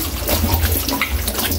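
Water runs and splashes steadily while pork is rinsed before slicing, up close in a home kitchen, with no talking.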